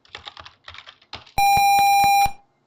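Keys clatter in a quick patter of light taps on a computer keyboard, then a loud steady electronic beep cuts in over a few heavier clicks before it stops.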